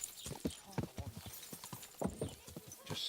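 Horse hooves clip-clopping in Kingdom Come: Deliverance, a steady run of close, thudding footfalls in a medieval town, with someone talking over them and a brief whinny-like sound near the end.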